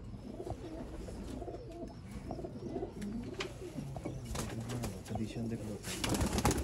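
Pigeons on a rooftop in Sialkot coo in low, soft, steady calls over a constant background hum; no clear speech.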